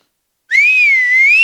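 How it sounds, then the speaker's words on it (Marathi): A woman whistles one clear sustained note after a short silence. The tone bends gently in pitch as it goes, loud and close, with no talking. "पुरुष मायमिंग करतो, बाई खरी शिट्टी वाजवते"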